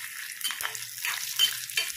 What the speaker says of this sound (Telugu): ఎండుమిర్చి వేసుకున్నాక బాగా ఫ్రై చేసుకోవాలండి దోరగా